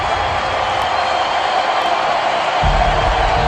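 Stadium crowd at a Kansas City Royals World Series game against the Angels, a broad continuous roar of cheering that swells louder near the end.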